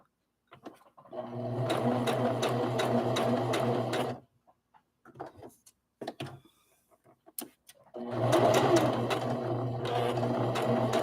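Sewing machine stitching a rag doll seam, running in two steady bursts of rapid needle clatter separated by a pause filled with brief handling clicks, close and fairly loud.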